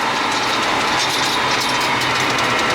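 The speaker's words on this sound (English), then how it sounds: "This thing sounds awesome. With the gates blowing open." A roaring 1000-plus horsepower race truck with a 68RFE transmission heard from the cab during a ride-along, a loud continuous broadband engine and wastegate rush that fills the whole stretch without a pause.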